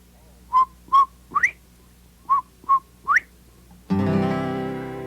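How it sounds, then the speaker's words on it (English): Bobwhite quail whistle in Missouri in clear repeated phrases, each two short level notes followed by a rising slurred note, heard twice alone and fairly close, before music begins. "The whistle of bobwhite quail in Missouri is a familiar sound"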